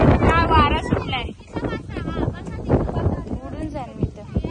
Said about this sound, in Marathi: बापरे काय वारा सुटलाय.